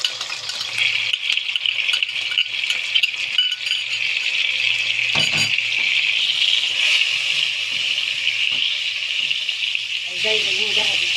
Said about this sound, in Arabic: وهنا دقيت الثوم اللي وريته لكم قرن فلفل، هنزل بيه هنا على الزيت ده كده